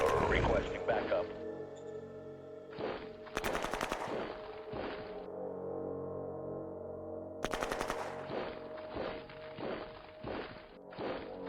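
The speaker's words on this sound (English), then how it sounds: "We're under fire." Bursts of gunfire in the strategy video game Shadow Empire, sharp clustered volleys near the start and middle with scattered single shots and thuds between, a distorted radio-style voice mixed in.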